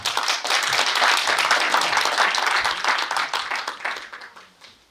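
An audience at a youth federation general assembly and chair inauguration ceremony applauds steadily to welcome a speaker to the podium. The clapping holds fairly loud before tapering away at the end.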